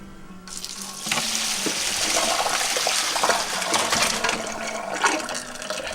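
Water runs off diced-to-be potatoes and carrots in a kitchen sink while making beef stew, a steady hissing rush that starts abruptly and continues loudly throughout.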